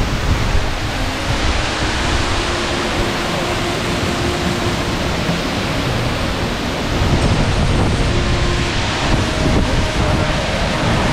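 Waterfall spray striking a GoPro camera at Dawki, Meghalaya: a steady, loud broadband rush of falling water and wind buffeting close to the mic, continuous throughout with no clear speech.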